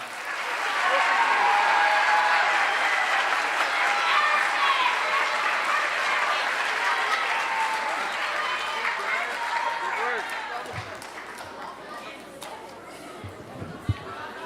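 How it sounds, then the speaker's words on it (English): A room full of people at a junior high school awards ceremony applauds steadily for about ten seconds, then the clapping thins out as a few scattered claps and murmurs linger. "we'll give this last group a big round of applause"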